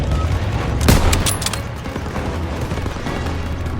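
Call of Duty WW2 gameplay of a World War 2 street battle: a single loud gunfire burst near the start, followed by a scattering of fainter shots and a steady low rumble of combat underneath.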